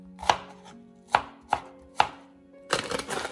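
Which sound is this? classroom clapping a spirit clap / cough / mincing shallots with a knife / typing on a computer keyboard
mincing shallots with a knife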